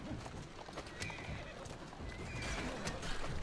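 Horse whinnies and clip-clopping hooves from the video game Assassin's Creed Syndicate, a neigh rising over steady galloping hoofbeats and busy game noise, with a voice faintly in the mix.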